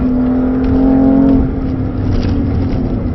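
Loud, close BMW M3 F80 engine drones on a steady tone while driving at the Nürburgring, then its pitch drops and the sound eases off halfway through, with no talk over it.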